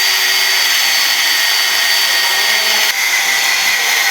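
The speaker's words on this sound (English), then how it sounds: "So he's cutting the collar that is at the end of the axle." Power tool cutting a metal collar at the end of an axle during a shed crane bridge installation, a loud, continuous, harsh grinding whine close by with one brief dip partway through.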